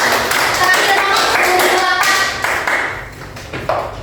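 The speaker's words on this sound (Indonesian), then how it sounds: "Berikan tepuk tangan untuk kalian." A classroom of students claps during a practice teaching session, a close, brisk round of hand claps with uneven rhythm that thins out toward the end, with a few brief voices mixed in.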